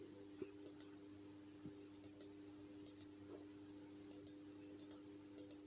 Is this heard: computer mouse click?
yes